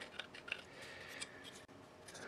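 A small part of an Amati First Step pirate ship model kit is cut away by hand, giving a few short, crisp snips and clicks close up against a faint steady background.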